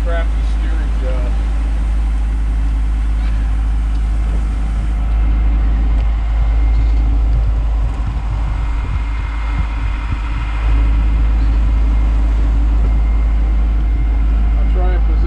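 A sailboat's engine drones steadily while motor sailing the last leg into Beaufort, North Carolina, a constant low rumble mixed with wind and water noise throughout, loud and close.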